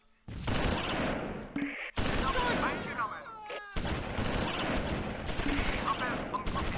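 Squad opening fire in the WWII strategy game Close Combat IV, set around Hotton, La Gleize and Stavelot: loud, dense bursts of rifle and machine-gun fire with heavy battle noise, continuing almost the whole time with short breaks.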